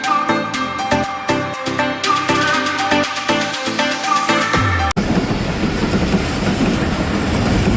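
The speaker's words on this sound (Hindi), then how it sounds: "15 मिनट ट्रेन का इंतज़ार किया, फिर ट्रेन आई। 5 मिनट ट्रेन गुजरती रही।" A long passenger train rolls steadily past a closed level crossing on a road toward Abbottabad, its wheels beating a rapid, regular clickety-clack close by before giving way to a broad rushing roar; no one speaks.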